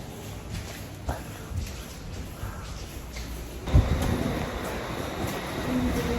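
Train noise at a railway station in Tübingen, Germany, a continuous low rumble of rail traffic with a thump partway through and wind or footsteps mixed in.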